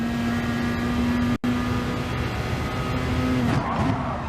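Peugeot RCZ Gr.3 race car engine in Gran Turismo Sport on the Dragon Trail Gardens circuit: a sustained loud droning engine note with a brief cut, then revs shifting as the car brakes and gets back on the throttle.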